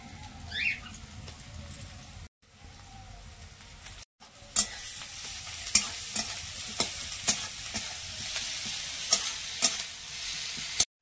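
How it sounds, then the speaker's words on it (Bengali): Onion, ginger and garlic fry in a pan with a soft hiss, then a brighter sizzle punctuated by regular sharp spatula clacks against the metal as the mixture is stirred. "এবারে রসুন আদাটা দিয়ে দিচ্ছি"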